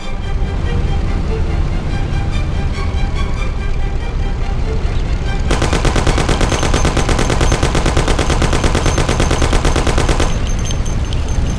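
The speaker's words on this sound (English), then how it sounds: "You and Sam shoot them!" Loud, dense gunfire in a shootout in the Mafia PC video game: continuous rattling bursts of automatic fire over a steady rumble of engine noise, close and relentless, with an even faster rapid-fire stretch in the middle.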